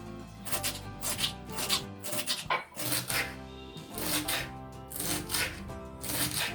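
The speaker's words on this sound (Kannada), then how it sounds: "ಆಲ್ಮೋಸ್ಟ್ ಅಲಸಂದೆ ಕಟ್ ಆಗ್ತಾ ಇದೆ. ಆಲ್ಮೋಸ್ಟ್ ಕಟ್ ಮಾಡ್ತಾ ಇದ್ದೀನಿ." A knife chops long beans (alasande) finely on a board for a palya stir fry, a fast, steady series of close, crisp cuts repeating in quick rhythm with brief pauses.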